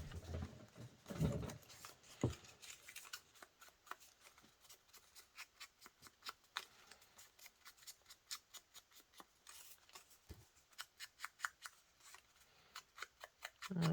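Scissors snipping through a paper junk-mail envelope to cut out a topper, a steady run of short crisp cuts close up, with a few louder rustles of handled paper at the start and end.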